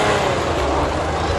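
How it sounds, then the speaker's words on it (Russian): An old German diesel engine labours uphill on a steep climb, a loud, steady low rumble with constant broadband roar throughout the short stretch. "Старый немецкий дизельный"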